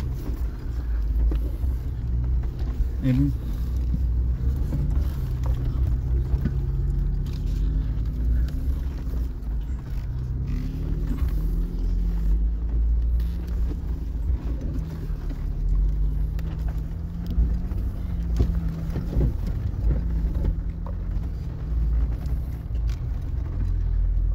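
A 4x4 off-road car grinds up a rock obstacle on the Poison Spider trail in Moab, Utah, its engine a steady low rumble that holds throughout with some wind noise and no talk.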